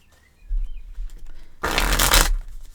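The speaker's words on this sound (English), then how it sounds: "Wait, let me get a good shuffle." A deck of oracle cards is handled with soft taps, then one loud, close riffle shuffle bursts for about half a second.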